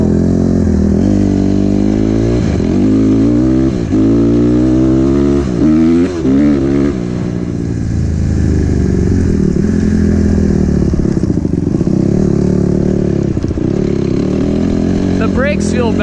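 An 85cc dirt bike engine revs and rides up close, its pitch climbing and falling through repeated throttle blips and gear changes across the whole stretch, loud and continuous with a voice talking over it.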